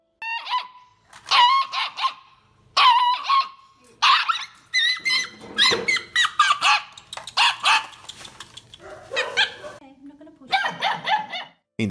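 An angry puppy barks and howls close by in a run of sharp, loud, repeated yelps and drawn-out cries broken by brief pauses, with high whines near the end.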